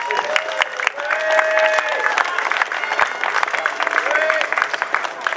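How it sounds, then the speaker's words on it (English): A live audience at a spoken word performance at Derby Feste 2011 claps steadily, dense and even throughout, with a faint murmur of voices underneath. "please give yourselves a big round of applause"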